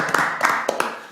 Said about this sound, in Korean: 박수 한번 보내드릴까요?